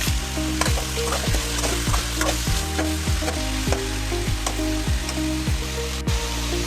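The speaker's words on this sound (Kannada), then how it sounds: "ಸ್ಟವ್ ಮೇಲೆ ಕಡಾಯಿನ ಇಟ್ಟು 1 ಟೇಬಲ್ ಸ್ಪೂನ್ನಷ್ಟು ನಾನು ಅಡುಗೆ ಎಣ್ಣೆ ಹಾಕ್ಕೊಳ್ತಾ ಇದ್ದೀನಿ. ಅದಕ್ಕೆ ನೀಟಾಗಿ ತೊಳೆದಿರ್ತಕ್ಕಂಥ ಚಿಕನನ್ನು ಹಾಕಿ" Washed chicken pieces fry loudly in a tablespoon of cooking oil in a kadai on a stove, giving a dense continuous sizzle with a faint low hum and a few light clicks.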